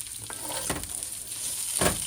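Onions are tipped into rice frying in a pan, with two sharp sizzling bursts over a steady background crackle and light stirring, close and alone.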